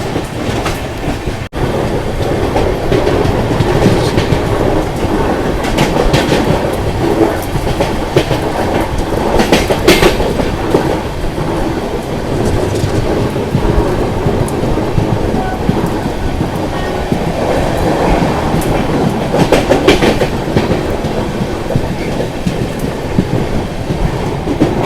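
Heard from on board, an Agartala–Deoghar Weekly Express train rolls across a rail-cum-road bridge with a loud, continuous rumble and rhythmic clatter of wheels, punctuated by periodic bursts of metallic rattling.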